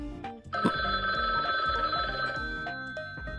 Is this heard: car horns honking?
no